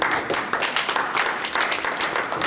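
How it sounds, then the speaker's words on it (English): An audience clapping, a dense, steady patter of many hands that carries on without pause for the whole stretch. "Can we give her another clap,"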